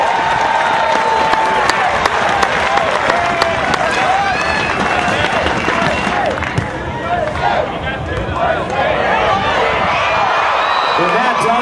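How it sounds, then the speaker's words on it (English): Crowd at a men's beach volleyball quarterfinal, USA against Poland, in Long Beach, loudly applauding, cheering and whooping in a sustained roar, with an announcer's voice and babble mixed in. "Put your hands together."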